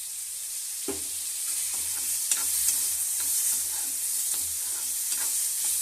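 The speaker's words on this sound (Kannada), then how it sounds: "ಚೆನ್ನಾಗಿ ಫ್ರೈ ಆಗಬೇಕು ರೀ ಮೆಣಸಿನ್ಕಾಯಿ ನೀರುಳ್ಳಿ ಎಲ್ಲ ಫ್ರೈ ಆಗಬೇಕು" Green chillies, onion and tomato fry in oil with a continuous close sizzle, broken by several soft scrapes and knocks of a spoon stirring the pan at irregular intervals.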